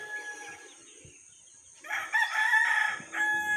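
A gamefowl broodcock crows once in a clear, fairly loud call near the end, after a faint earlier crow and quiet background.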